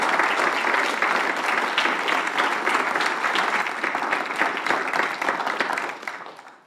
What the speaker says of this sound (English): If we could applaud.